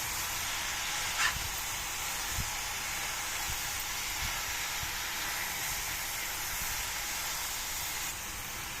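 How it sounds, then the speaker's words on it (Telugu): Spinach dropped into a hot pan over a high flame while making a white chickpea curry, giving a steady soft hiss and sizzle with a few faint clicks, no talking. "ఇప్పుడు పాలకూరను వేస్తున్నాను"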